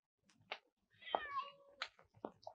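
A cat gives several short meows and one longer, drawn-out meow in a quiet room, close by and clear, with no other sounds.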